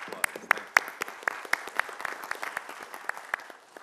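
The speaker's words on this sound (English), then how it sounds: "we'll give you a round of applause" Audience applause at a morning city meeting, a small group clapping with a few sharp, distinct claps standing out near the front over a lighter, looser patter.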